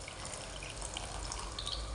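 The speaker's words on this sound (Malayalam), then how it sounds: "ഇനി ഇത് നമ്മൾ പുളിവെള്ളം ഒഴിക്കുകയാണ്." Tamarind water is poured into a pan of hot oil while cooking, giving a soft, continuous trickling and splashing at low level with a few faint drips.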